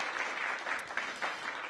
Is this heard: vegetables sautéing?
no